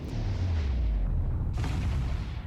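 Heavy warship guns in World of Warships fire in rumbling booms. One dense roar dies away and a second sharp blast follows about halfway through, deep and loud.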